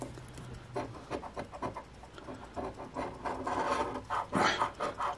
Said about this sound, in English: we are using M2M Grub & Gamble's Superb Coin for scratching hard-to-scratch tickets like this one